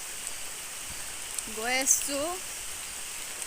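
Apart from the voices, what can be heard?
rain falling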